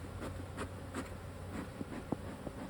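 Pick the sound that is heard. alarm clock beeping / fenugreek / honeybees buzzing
honeybees buzzing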